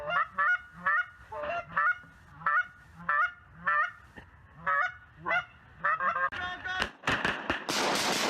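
A flock of snow geese honks repeatedly and close by during a waterfowl hunt. The calls come in steady, overlapping bursts before ending in a louder, dense rush of noise.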